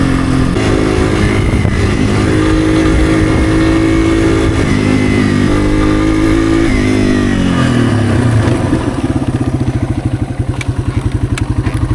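A roached Yamaha TW200 motorcycle that sat for about 20 years, with carburetor trouble, runs steadily and loud up close, its engine pitch rising and falling through a few revs before settling into a rough, pulsing idle.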